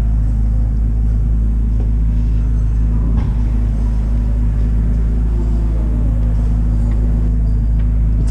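A Corvette Z06 engine warming up, a steady deep idling rumble that stays loud and close throughout, with no revving and no voices.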